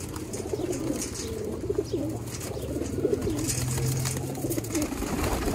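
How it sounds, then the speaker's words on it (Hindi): Pigeons cooing steadily in a loft, with repeated low throaty coos overlapping throughout amid light background chirps. "देखो कबूतर"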